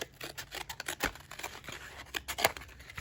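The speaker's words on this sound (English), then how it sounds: "And then I'm gonna cut the box off from there." Scissors cut through a cardboard box, a run of crisp snips and crunching cuts in an irregular rhythm, close and moderately loud with no talking.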